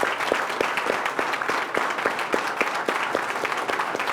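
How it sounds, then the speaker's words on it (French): A conference audience applauds continuously and densely for thirty seconds, many hands clapping at once, with a few louder claps standing out in a loose rhythm. "On va faire 30 secondes d'applaudissements"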